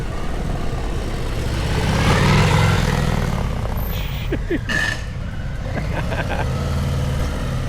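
A loud Harley-Davidson motorcycle engine with a large aftermarket cam rumbles continuously up close with a deep, lumpy, uneven idle and swelling revs; a voice is faintly audible in the background.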